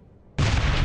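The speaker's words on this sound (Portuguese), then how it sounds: "A hora da explosão." A land mine detonates in the survival video game Last Day On Earth: silence, then one sudden loud, close boom that stays as a dense roaring blast to the end.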